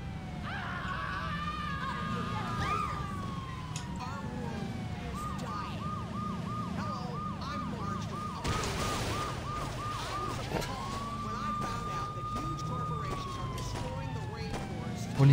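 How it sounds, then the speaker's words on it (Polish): A police siren in the video game Saint's Row wails in repeated rising and falling sweeps, then shifts to faster yelps and a long held tone, loud and continuous over a low rumble of engine and traffic noise. "Jak słyszę w ogóle tą syrenę, to się człowiek gra w GTA 3"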